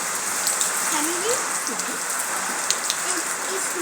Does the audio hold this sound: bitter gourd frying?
no